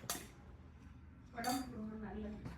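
Utensils clink against a bowl while food is mixed for a healthy kid's school lunch with cucumber decoration: a few short, bright taps spaced apart, with voices and a hum around the middle.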